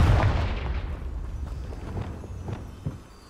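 Confringo spell explosion in the video game Hogwarts Legacy: a loud opening burst that decays over a few seconds, followed by scattered smaller impacts and cracks, with no talk.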